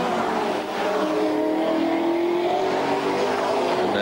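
Touring race cars at the 1992 Bathurst 1000 run past one after another, a loud engine drone that rises and falls in pitch as they accelerate and shift gears, continuous and close.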